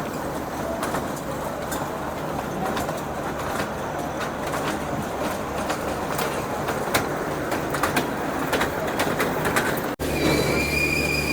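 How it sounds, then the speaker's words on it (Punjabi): A continuous rumbling clatter like a train rolling on rails, from an amusement ride train at the Barnala fair in Punjab, with occasional metallic squeals and faint bird chirps over the steady din. "ਆਵਾਜ਼ ਵੀ ਉਸੇ ਤਰ੍ਹਾਂ ਕਰਦਾ ਹੈ ਜਿਵੇਂ ਅਸਲੀ ਟ੍ਰੇਨ ਕਰਦੀ ਹੁੰਦੀ ਆ"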